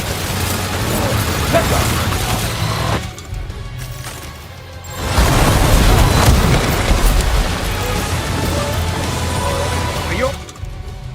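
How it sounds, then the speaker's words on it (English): Loud rumbling booms and explosive bursts in the Death Stranding 2 video game, heavy at first, dropping briefly, then surging again into a dense roar, with a short spoken line over the fighting. "Opening fire now."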